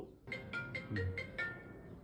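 A phone ringtone plays six evenly spaced electronic chimes in quick succession indoors during a household scene, with no talk over it.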